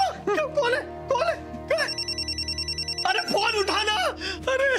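A telephone rings in a steady electronic trill for about a second, cutting in among several voices talking loudly nearby.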